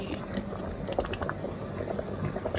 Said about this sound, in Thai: เมื่อมันเดือดพรักพรักพรักแบบนี้